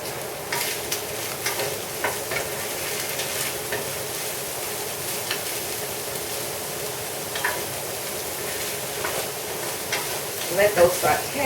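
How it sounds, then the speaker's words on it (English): Onions sauté in a pan with pork and zucchini, giving a continuous sizzle broken by scraping stirs and occasional clicks of the utensil that grow busier toward the end. "Let those saute."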